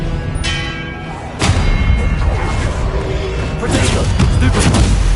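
Expelliarmus spell cast in Hogwarts Legacy combat: loud impacts and booming thuds with ringing, bell-like tones, dense and continuous amid the clamor of battle.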